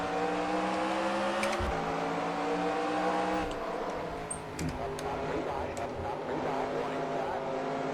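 Stock cars roar around an oval in NASCAR Racing 2003 with the 2008 Car of Tomorrow set, a steady loud engine drone with rising and falling pitch as the field runs under green, a brief dip midway.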